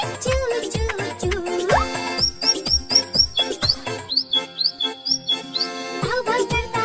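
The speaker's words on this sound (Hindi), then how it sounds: "चिड़िया बोले चू चू चू" Cartoon bird chirps ring out in a kids' 3D nursery rhyme: a series of quick, high, bright tweets in rhythmic bursts, set between stretches of upbeat music.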